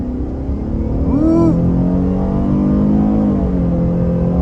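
A 2024 Buick Enclave Avenir with a 3.6-litre V6 accelerates at half throttle, its engine note rising in a loud, close, steady drone heard from inside the cabin, with a brief voice over it.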